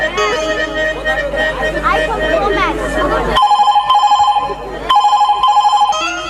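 A telephone rings in repeated electronic bursts, first buried under lively chatter and background noise, then standing alone and clear as the pulsing rings continue in a steady pattern.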